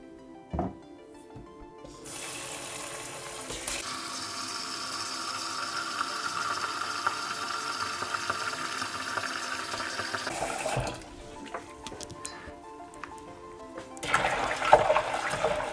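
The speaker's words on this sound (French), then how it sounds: "Je recouvre bien les graines d'eau" Water poured into a pot over dried field corn kernels for cooking, a continuous close splashing and gurgling fill lasting several seconds, with a brief clunk before and a louder splash near the end; no speech.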